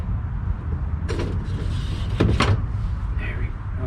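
On a Chevy Colorado ZR2, the spare tire cover is popped off, giving a few short plastic creaks and clicks in quick succession over a quiet, close background.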